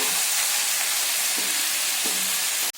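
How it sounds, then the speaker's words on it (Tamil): Mint leaves sautéing in a pan over a medium flame, a dense, steady sizzling hiss that carries on loud and close without pause until it cuts off abruptly at the very end. "ஸ்டவ்வை மீடியம் ஃப்ளேம்லேயே வச்சு வதக்குங்க புதினா கருகிடாமல்"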